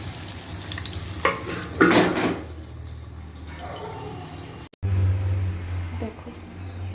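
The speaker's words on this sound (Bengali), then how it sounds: "দেখো, ওই তেলেই এবার আমি তেজপাতা ফোড়ন দিলাম।" Bay leaves tempering in hot oil for aloo paneer potato curry, a close, steady sizzle and crackle with a louder burst of spitting early on, continuing under a faint hum.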